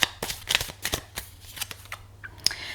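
Quick riffling and snapping of Tarot of Marseille cards being shuffled by hand, a series of sharp papery flicks close up.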